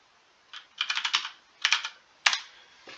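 A password typed on a computer keyboard: close, crisp keystrokes in quick runs of four or five, then a pause, another short run and a final firm key press, with no voices.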